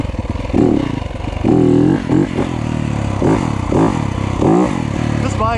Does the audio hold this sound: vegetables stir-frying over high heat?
no